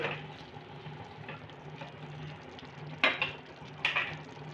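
Garam masala being stirred into a bubbling jackfruit curry in a pan on medium heat, a soft low simmer broken by two sharp spoon scrapes against the pan near the end.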